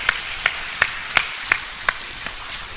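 A church congregation claps in unison during worship, about seven sharp, even claps on a steady brisk beat, fairly close and clear with no talking.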